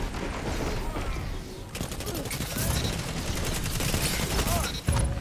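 Rapid automatic gunfire from an exotic automatic rifle in Destiny 2 rattles in sustained bursts, dense and loud, with brief gaps between volleys.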